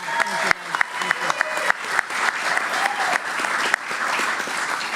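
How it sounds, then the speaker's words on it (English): An audience at a state golf championship announcement gives a round of applause, dense continuous clapping from many hands, close and steady throughout, with a voice briefly under it. "Let's give him a round of applause as well."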